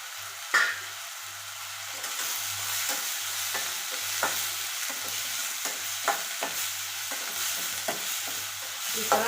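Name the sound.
onion frying and stirred in pan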